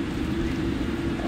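Steady, loud, low rumble inside the cabin of an airliner still rolling along the ground after landing, with engine and road noise holding even throughout and no speech.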